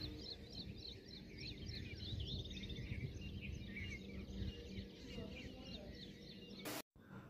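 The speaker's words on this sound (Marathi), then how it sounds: "पक्ष्यांचा चिवचिवाट पहा किती" Small birds twitter and chirp repeatedly over green farmland at dawn, a busy layer of high calls above a low rumbling outdoor background, with no one speaking.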